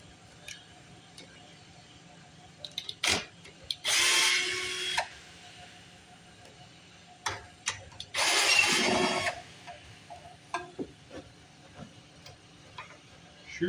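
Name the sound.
1952 Briggs engine on reel mower being pull-started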